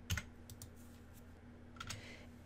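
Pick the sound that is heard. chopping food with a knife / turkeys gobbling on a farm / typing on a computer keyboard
typing on a computer keyboard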